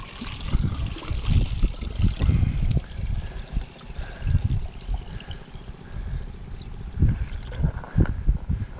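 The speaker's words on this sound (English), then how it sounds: "I'll just dump out my water" A bucket of water dumped out during gold panning on the North Saskatchewan River, giving a broad, uneven splashing and pouring rush in several surges over steady outdoor water noise.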